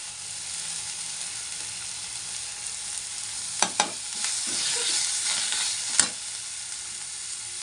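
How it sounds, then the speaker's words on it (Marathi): Chopped fresh coriander dropped into a hot tempering for rava upma, a few sharp clinks of a spoon followed by a burst of crackling sizzle and stirring, moderately loud, then settling into a soft fry. "त्यात टाकूया आपण हिरवं धनिया, कोथिंबीर कट केलेली."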